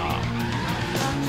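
Tires screech as a car skids under hard braking in the PS4 racing game The Crew, a loud, continuous squeal over engine noise that lasts the whole short moment.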